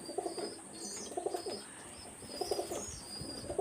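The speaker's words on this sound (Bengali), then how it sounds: "একটা গোল্ডেন নর কবুতর।" A golden male pigeon coos repeatedly, soft throaty rolling calls in a steady rhythm close by, with faint higher chirps from other birds in the background.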